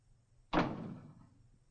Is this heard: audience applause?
no